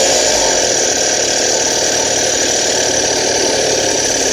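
A Craftsman wood chipper's engine runs at a steady idle, a loud, constant droning rumble with a slight rattle, unbroken from start to finish.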